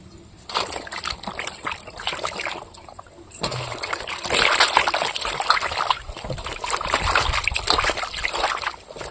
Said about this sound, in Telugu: ఒకసారి నీళ్ళు పోసుకొని నీట్గా అయితే వంకాయలు కడుక్కుందాం